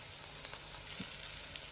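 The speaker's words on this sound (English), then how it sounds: "I'm just gonna let them fry for at least 4 minutes on each side." Oil sizzles and crackles steadily with a constant hiss and occasional small pops as ripe banana fritters fry in a pan nearby.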